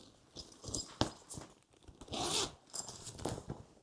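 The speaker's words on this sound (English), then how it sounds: "And it has double zippers on this." Zippers on a Black Voyage Zephyr PRO 60L backpack are pulled in several quick, close rasping runs with small clicks and rustles between them.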